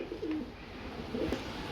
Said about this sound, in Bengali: আমরা এখানে দেখতে পাচ্ছি এক পিস সিঙ্গল কবুতর রয়েছে